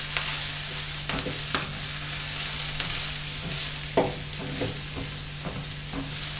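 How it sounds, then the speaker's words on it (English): A stir fry is stirred in extra virgin olive oil over low heat, a steady gentle sizzle with soft scrapes and occasional taps of the utensil against the pan, no talking. "So I guess we stir this around a little bit on a low heat"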